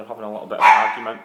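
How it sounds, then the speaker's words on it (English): A small dog barks and yaps in the background of a room while a person keeps talking over it, the barks brief and mixed with the voice. "you can hear my dog barking in the background"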